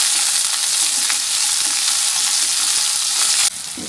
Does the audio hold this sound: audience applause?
no